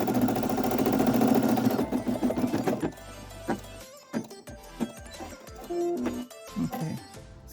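A Brother SE1900 embroidery machine stitches a tracing outline, its motor whirring steadily at first, then giving way to a series of separate mechanical clicks and short hums with quiet gaps between them.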